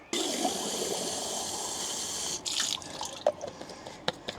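Water from a spring near Most na Soči running steadily into a bottle being refilled, a close continuous splashing stream that stops after about two seconds, followed by a few faint drips and handling clicks.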